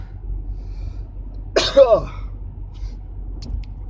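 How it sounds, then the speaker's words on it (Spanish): A single sharp human sneeze bursts out suddenly in a quiet room, a brief loud explosive release with a quick trailing breath, surrounded by near silence. "Perdonen que voy a estornudar."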